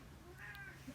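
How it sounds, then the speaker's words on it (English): A house cat gives a single soft, brief meow, faint against a quiet indoor background. "And that's my cat."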